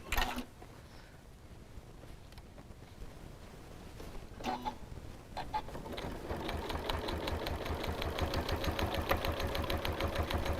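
Home sewing machine stitching binding on a quilted potholder: after a couple of brief clunks, a steady rapid mechanical whir with rhythmic needle pulsing runs continuously, close and moderately loud.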